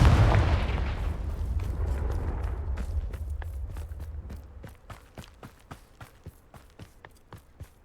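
A Confringo blasting spell detonates in Hogwarts Legacy, a loud rumbling explosion that fades over about four seconds into a run of sharp, evenly spaced thuds like footsteps or small impacts.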